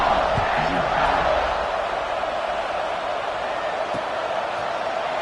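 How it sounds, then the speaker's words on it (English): A packed college football stadium crowd hums in a steady, dense roar after a score, with a distant public-address voice briefly audible over the constant buzz. "this crowd is buzzing after that last score"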